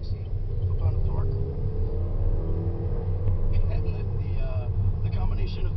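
A 2014 Chevy Malibu Turbo accelerates, its engine drone rising in pitch from inside the cabin under a low road rumble, with someone talking over it.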